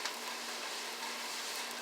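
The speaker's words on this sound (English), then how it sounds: "I'm liking what I'm hearing with these green beans. Getting a nice little sizzle." Green beans sizzle in a frying pan, a steady, close crackling hiss that runs evenly throughout with no talk over it.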